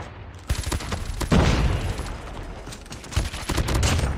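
Bursts of Peacekeeper MK2 assault rifle fire in COD Mobile, several loud rapid volleys close up, separated by short pauses.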